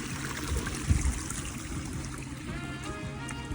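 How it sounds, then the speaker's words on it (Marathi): Drinking water gushes from a leaking main across a road at night and runs down a slope, making a steady, fairly loud rushing flow with a few deeper splashes early on. "इथून हे सगळं पाणी खाली स्लोपनी वाहून चाललंय"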